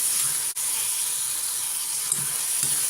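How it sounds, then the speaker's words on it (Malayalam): Chillies sauté in hot oil for a lemon chutney, a soft, even, steady sizzling hiss throughout with a brief dip near the start and a couple of faint soft knocks. "മുളക് കൂടെ ഒന്ന് മൂക്കട്ടെ. ഇതിൻ്റെ കൂടെ കിടന്നൊന്ന് വഴലട്ടെ."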